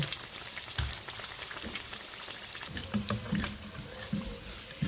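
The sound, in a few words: egg rolls frying in oil after flipping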